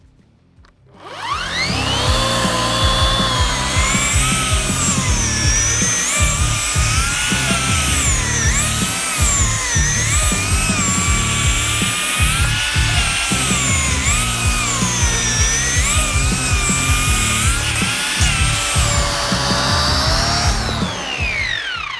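A loud, steady electric chainsaw motor whines continuously while cutting through a 15-20 cm log, its pitch wavering slightly as the blade bites, running nonstop for about twenty seconds.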